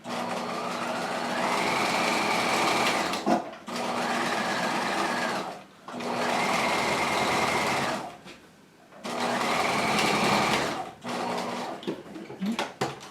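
A sewing machine stitches rows along a jacket sleeve, a loud close steady whir running in four long bursts separated by brief stops.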